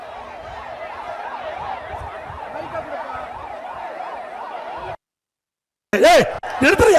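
An ambulance siren wails in a steady, rising-and-falling cycle at a political rally, loud and continuous for several seconds before cutting off, then a burst of loud, excited voices.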